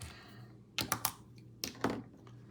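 Prizm football blaster box card packs are torn open in a few short, sharp rips and crinkles, close and fairly quiet, with two clusters of tearing separated by a pause.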